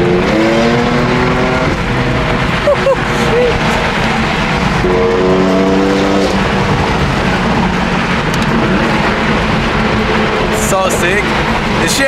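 A BMW E92 engine roars loud and continuous from inside the car while driving, a steady dense drone with rising and falling tones as it accelerates.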